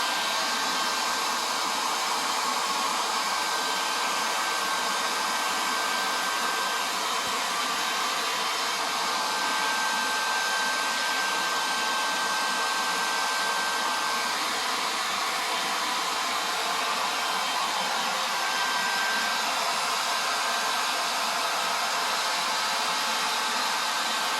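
A hair dryer blows steadily on a bathed chicken's damp feathers, a continuous loud whooshing airflow with a faint whine, close and unbroken throughout with no talking.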